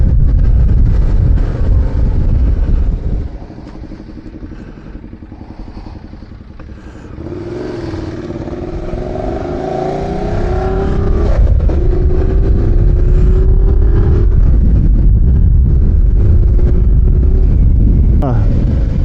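A Ducati Diavel motorcycle rides along a road, its engine rumbling under heavy wind buffeting, easing off briefly before the throttle opens and the tone climbs steadily as it accelerates.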